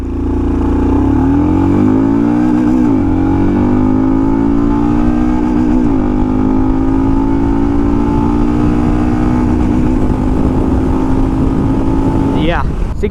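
A Royal Enfield Scram 440 motorcycle accelerates hard on a road, its loud, close engine climbing steadily in pitch through several gear changes, with wind rush over it throughout.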